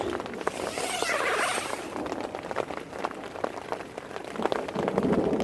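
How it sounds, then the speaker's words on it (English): Rain falls on the fly of a USMC two-man combat tent during a storm: a steady, dense hiss of drops with scattered sharper taps and crackles, continuous throughout. "See a little rain here coming from up here on the fly."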